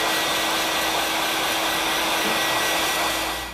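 A hair dryer blows continuously close by, drying paint on a plastic butter tub, a loud steady whir that tapers slightly at the end, with no one speaking.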